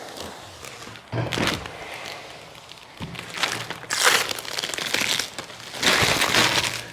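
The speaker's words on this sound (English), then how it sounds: "All right, so let's peel this side off." Protective film is peeled off the plastic back window of a Can-Am Defender, with crinkling, crackling rips in several bursts and occasional handling thumps, close by.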